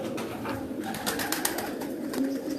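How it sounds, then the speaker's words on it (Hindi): A chapra tournament flying pigeon on a rooftop in Mianwali gives low, close cooing murmurs against a steady outdoor hiss. "ये जी खालिद न्याई साहब का चपड़ा कबूतर जो परसों टूर्नामेंट में उड़ना है"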